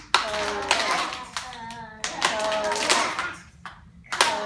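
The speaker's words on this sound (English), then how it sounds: "Clap it with me." Hands clap out word syllables in a classroom lesson, sharp claps in small groups of two, spoken along with by a teacher's and children's voices.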